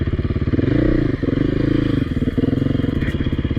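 A Beta motorcycle at a 2019 demo day buzzes along close by, its engine pulsing in a rapid rhythm that rises and dips briefly through a short ride, with light clatter underneath.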